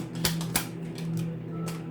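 A deck of tarot cards being shuffled by hand, with quick crisp flicks and light clicks over a low, steady hum, close by and without speech.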